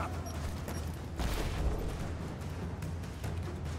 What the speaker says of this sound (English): What is that grenade sound?